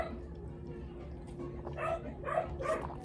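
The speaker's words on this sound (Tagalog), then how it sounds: "Ang ingin ng aso." A dog barks and yips several times in short bursts at moderate distance, over a steady low background hum in a home.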